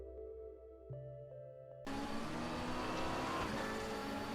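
A race car roars along the track at Paul Ricard in a racing video game, a loud, steady engine drone that cuts in after a quieter tonal hum and holds to the end.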